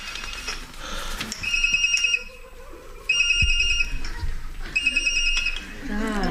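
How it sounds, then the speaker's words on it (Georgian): A mobile phone rings in repeated electronic bursts at moderate volume during an incoming call, with people talking in between. "გამორთე ახლა ეგ ტელეფონი ან უპასუხე"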